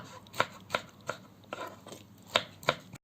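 A knife chopping tomatoes on a cutting board, sharp distinct taps at an uneven pace, close and fairly quiet with no talking.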